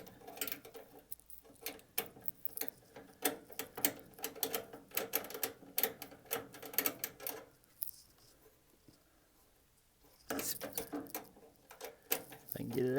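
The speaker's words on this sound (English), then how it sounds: "Alright, so I'm going to undo these screws." Screws come out of an HVAC blower motor in bursts of quick, close ticking and ratcheting clicks, with a quiet pause midway before the clicking resumes; someone speaks at times.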